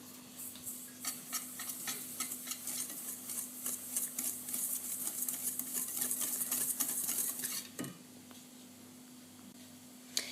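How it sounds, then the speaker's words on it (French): A whisk beats coconut cake batter in a bowl, producing a fast, steady run of close scraping and tapping strokes that stop abruptly near the end. "Je mélange à l'aide d'un fouet."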